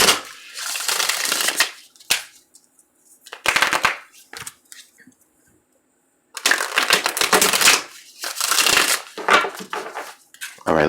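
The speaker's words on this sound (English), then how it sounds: "let's get one more shuffle here." Tarot cards being shuffled by hand in bursts of crisp riffling and fluttering, close up, with short pauses between shuffles and a longer quiet gap in the middle.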